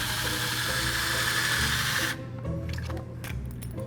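A drill bores pocket holes in an old wooden table frame being upcycled, a steady close whirring that runs for about two seconds, then stops and leaves quieter handling noises and faint clatter.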